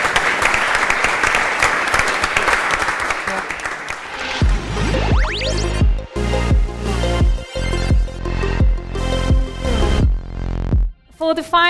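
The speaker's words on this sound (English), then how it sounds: "a big round of applause for all of you here" Audience applause at a design event, a broad wash of clapping for about four seconds before giving way to music with steady beats that carries on to the end.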